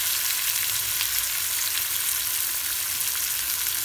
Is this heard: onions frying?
yes